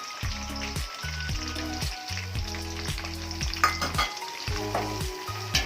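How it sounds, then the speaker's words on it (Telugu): Onions frying in oil in a pan for a Godavari-style fish curry, a continuous close sizzle with bursts of crackle and scraping stirs, plus a repeating low mechanical hum pattern underneath; no speech. "కొద్దిగా వేగిన తర్వాత ఆనియన్స్ వేసుకుందాం"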